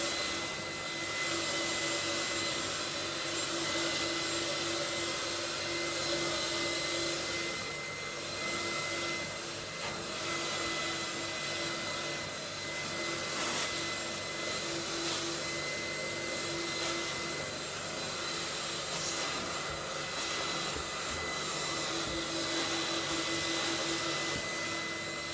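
A carpet cleaning machine makes dry passes over a wool carpet indoors, giving a steady loud whine and rushing suction roar that runs continuously with slight swells, and no talking.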